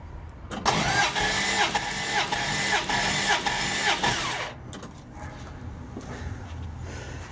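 A Plymouth Duster 318 V8 cranks over on the starter during a compression test, a loud rhythmic whirring churn lasting about four seconds before cutting off, leaving a quieter background rumble.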